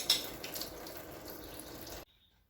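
Coolant draining from the radiator hose of a Polaris Sportsman 400 ATV, a faint steady trickle of liquid that stops abruptly near the end.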